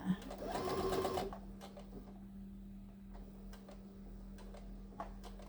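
A home sewing machine stitching a fabric headcovering runs in one short burst of rapid stitching, then stops, leaving a faint motor hum and soft ticking clicks, close and quiet.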